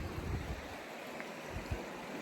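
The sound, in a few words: river creek flowing water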